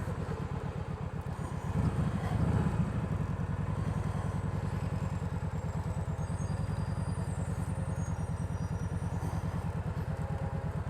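Motorcycle with a brand new clutch running at high revs, a steady close engine drone with one brief louder rev-up near the start, no talking.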